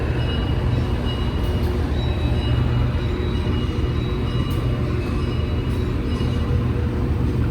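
Heavy rumble of train locomotives passing near Kadipiro station, a steady low-pitched roar that holds at a constant level throughout with no voices.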